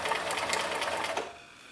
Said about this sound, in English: So I'm sewing that.